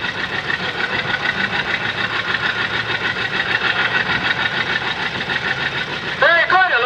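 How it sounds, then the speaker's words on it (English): The engine of a restored antique tractor runs steadily at a thresheree parade, a continuous rhythmic chug heard close and fairly loud. Talk over a loudspeaker runs over it, and a brief whistling tone rises near the end. "Beautiful, beautiful tractor."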